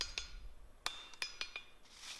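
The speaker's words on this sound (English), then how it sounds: "we're still hammering on it and we're starting to get closer to shape" Hot bar stock struck on an anvil while forging an upset square corner: several sharp, ringing metallic blows at an uneven pace, fairly faint and close, with brief quiet gaps between strikes.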